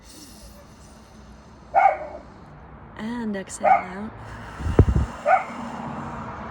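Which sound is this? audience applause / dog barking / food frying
dog barking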